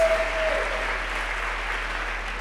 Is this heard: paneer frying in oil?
no